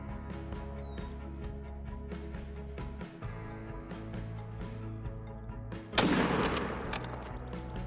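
A single loud rifle shot aimed at a mountain lion in a hunting video game cracks out after a long stretch of quiet game ambience and tonal background sound, then trails off in a rumbling echo.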